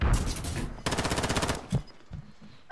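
Rapid automatic gunfire in a Call of Duty match crackles in loud, close bursts, a long rattling volley followed by scattered single shots and quieter gaps.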